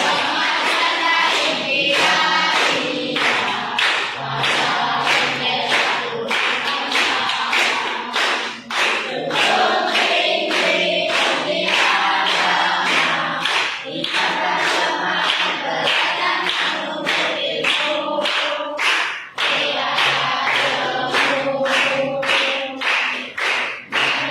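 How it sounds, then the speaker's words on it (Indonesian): A group of students sing the Mars Madrasah Ibtidaiyah march together, keeping time with steady rhythmic hand clapping throughout a long, lively chorus indoors. "menyanyikan Mars Madrasah Ibtidaiyah diiringi dengan tepuk tangan"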